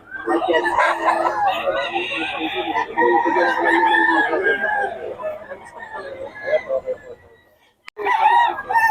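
Several long, strained rooster crows of a Gilmore Hatch Henny and other fowl ring out close by, one after another, with chatter and clucking among them and a short final crow after a pause.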